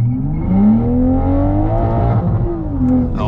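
A Toyota Supra accelerates hard on a 201 m drag strip, its engine note climbing steadily and loudly through the revs with a brief shift dip near the end; no one speaks.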